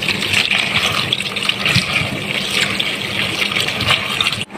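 Limes rinsed under a steady stream of running tap water, a continuous close splashing and gushing that lasts throughout with no talk.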